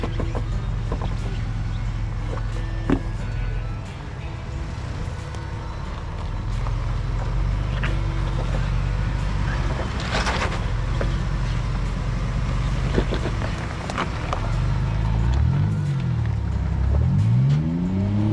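A Ford Bronco off-road vehicle with skid plates rolls over rocks at an off-road park, its engine holding a steady low drone with rising and falling revs and occasional knocks, near and continuous, with no talking.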